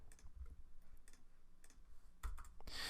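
Soft computer-keyboard typing while code is written, scattered quiet key clicks in short bursts, with a slightly louder flurry of taps toward the end.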